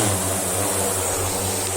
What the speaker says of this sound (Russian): Так, дрон взлетел.